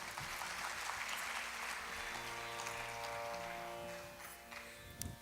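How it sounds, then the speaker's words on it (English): Audience applause after a dance performance at an Arangetram, a faint, distant wash of clapping hands that holds steady and then tapers off, with a low hum underneath. "Please give them another round of applause."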